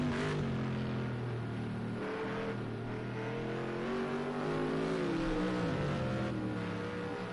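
A GT1 race car engine at the Hockenheim circuit drones steadily with a low, sustained note that shifts pitch as it revs, heard continuously without speech.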